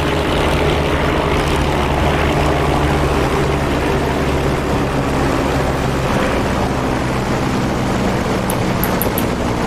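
P-51 Mustang propeller fighter in the DCS World flight game, a constant droning engine note that holds steady throughout, loud and close, with no talking.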